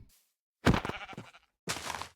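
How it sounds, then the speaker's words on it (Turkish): Two short sheep bleats separated by a pause, clean and close, with an artificial, game-like quality and silence around them, from a Minecraft horror mod pack. "Burada bir koyun var."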